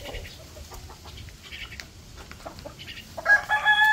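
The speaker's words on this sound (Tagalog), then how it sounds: "Ito yung mga manok natin ngayon." Hens cluck softly in the background at a backyard chicken coop, then a rooster crows loudly near the end, with faint wind and rustling throughout.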